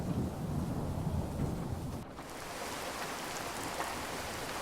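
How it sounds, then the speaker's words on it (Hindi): Steady rain hisses throughout while a low, soft rumble of thunder rolls underneath in the first half, then eases into lighter rainfall. "गरज की हल्की आवाज गूंज रही है।"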